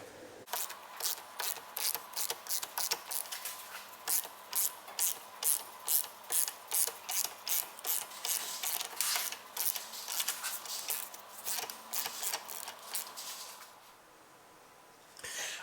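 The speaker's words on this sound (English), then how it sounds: "all I need to do now is just to continue to tighten this nut, and it will slowly start to pull the bush in" Steady, evenly spaced ratchet clicks, close and clear, as a nut is tightened on a tool pulling a rear axle bush into a 2010 Ford Fiesta solid rear axle, continuing for about fourteen seconds before stopping.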